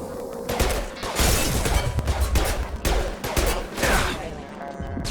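Sustained automatic gunfire from Mass Effect 2 rattles in loud, dense bursts with short gaps between volleys, close and continuous with no talking.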